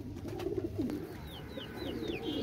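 A Pakistani golden male pigeon coos in low, repeated rolling phrases close by, with a few faint higher bird chirps sounding over it.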